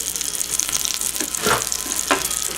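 Skinless boneless chicken breast seasoned with ranch and parmesan sizzles steadily as it browns in a pan, a close, continuous frying hiss with a few brief spatters.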